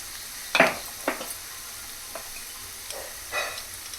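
Mustard seeds hit hot oil for a mango pulihora, giving a few short sizzling crackles and spurts of frying with quiet gaps between them, close and moderately loud.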